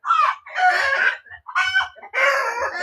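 Chickens on a farm cluck and a rooster crows in several loud, close bursts separated by short pauses, with no one talking.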